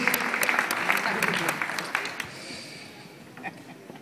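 Crowd applause from a stadium stand at a Breiðablik Icelandic championship celebration, steady clapping that fills the first half and gradually thins and fades, with voices mixed in.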